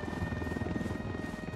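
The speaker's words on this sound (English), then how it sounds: "Oh, that's the helicopter." Steady rotor drone of a helicopter in the video game Ghost Recon Wildlands, an even throbbing hum with a faint high whine, moderately loud and constant throughout.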